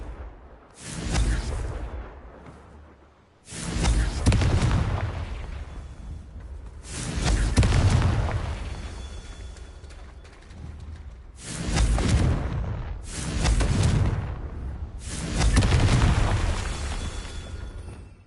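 Confringo fire spells from Hogwarts Legacy explode in a steady run of loud, booming in-game blasts, about six bursts each trailing into a rumbling decay, with short gaps between them and no voices.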